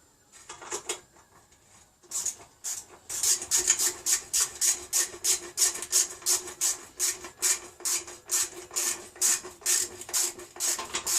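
8mm spanner winding in the chain adjusters on a Triumph Bonneville America Speedmaster motorcycle, close by: a few scattered scrapes, then a long, even run of rhythmic metallic rasping strokes with no talk.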